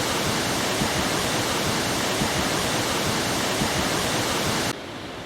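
A rushing brook beside picnic tables behind an inn in the Lake District gives a loud, steady broadband roar of churning water that cuts off abruptly to a quieter hiss near the end.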